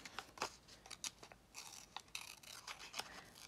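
Scissors snip through paper to cut out a pair of paper eyebrows: a quick, irregular series of close, crisp snips and faint paper rustles, with no talking.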